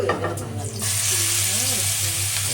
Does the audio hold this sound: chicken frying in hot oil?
yes